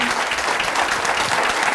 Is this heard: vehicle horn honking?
no